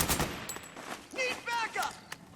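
Gunfire in the Metal Gear Solid 4 video game on PS3 as a battle opens: a burst of close shots with shouted voices, followed by whooshing and warbling effects, fairly loud and cluttered.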